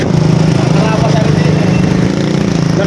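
A motorcycle engine runs with a steady, close, even hum throughout, and voices talk over it.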